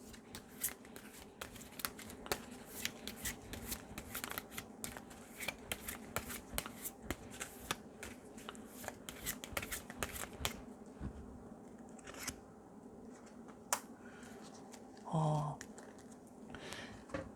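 Tarot cards are shuffled in a steady run of soft, rapid riffling and flicking, close and fairly quiet, with a brief knock near the end and no talking.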